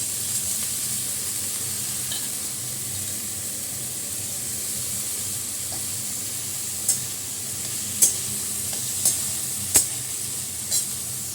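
Potatoes fry in a pan with a steady close sizzle and hiss, broken near the end by a few sharp clinks and scrapes of stirring.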